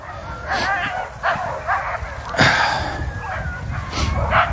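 Several sled dogs bark and yip excitedly nearby in quick bursts at the start of a sled dog race, with some whining between barks and a voice faintly in the mix.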